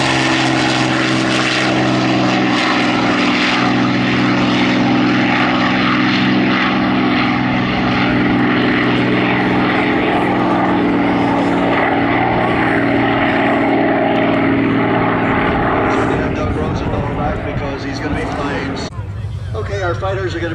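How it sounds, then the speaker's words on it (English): Propeller fighter aircraft such as a P-40 Warhawk or P-51 Mustang roaring past at a World War II air show, a loud, sustained engine drone that holds steady and then thins out near the end, with a voice speaking over it. "We'll tell you a little bit about each airplane as it comes roaring by at a high rate of noise."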